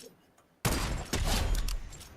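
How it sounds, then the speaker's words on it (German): Sniper rifle shots ring out in a Fortnite match: a sudden loud blast cuts in after a quiet moment, followed by a second hit and a rumbling burst of gunfire and game effects. "2 Schuss mit der Sniper, das wird auf jeden Fall 2 Gegner umbringen."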